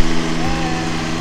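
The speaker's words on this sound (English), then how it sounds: "Lawnmower." A lawn mower engine runs with a steady droning hum over nearby grass in a Vienna garden, loud and close, with a person speaking under it.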